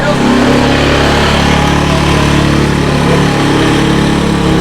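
A motorcycle engine runs steadily and loudly throughout, a continuous close drone with no talking over it, likely an ojek bike just started after stalling.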